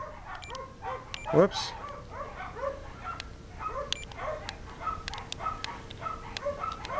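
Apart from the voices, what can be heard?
dogs barking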